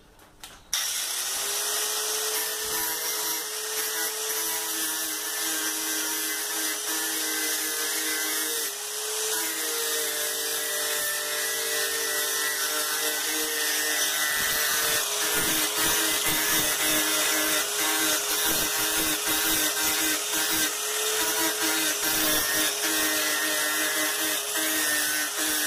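A power sanding machine whines steadily against a family refrigerator during a door gasket replacement, a loud sustained tone with shifting pitch and scraping bursts in the latter half.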